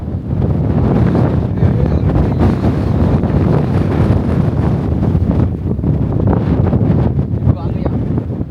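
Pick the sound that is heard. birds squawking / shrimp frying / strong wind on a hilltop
strong wind on a hilltop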